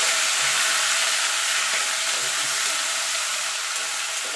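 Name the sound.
bay leaves and whole cumin sizzling in hot oil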